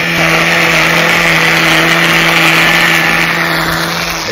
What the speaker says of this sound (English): the one tool that stands out the most to me is my Milwaukee Quik-Lok String Trimmer